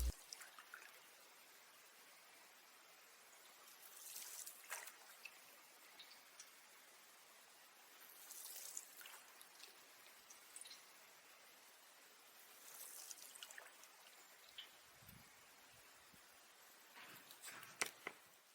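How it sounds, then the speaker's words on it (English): A small boat being paddled on calm water in the evening, with soft, faint dips and trickles coming every few seconds in a slow, irregular rhythm over quiet stillness. "I decided it'd be a nice evening for a little paddle before bedtime"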